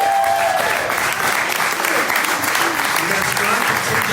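Steady applause from an audience at a book launch party, dense and sustained throughout, filling the room with continuous clapping.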